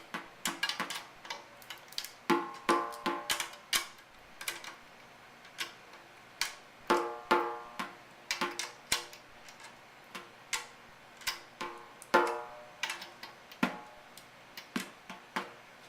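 Tuning keys on a snare drum being turned during a head change, giving a steady run of small, sharp ticking clicks close by, evenly spaced and alone with no talking.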